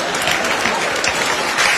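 Audience applause at a live Italian comedy show, dense and steady hands clapping across the whole stretch with a broad crowd wash.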